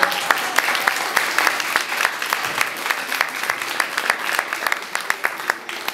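An outdoor audience at an Independence Day centenary ceremony in Mierzeszyn claps in a dense, steady patter of many hands, sustained and fairly close, with a faint voice beneath.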